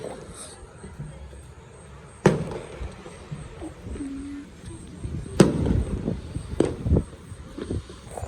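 Fireworks bursting at a distance, heard from a balcony: a few sharp, separate bangs with crackling in between, one louder boom near the middle, while a person talks quietly over them.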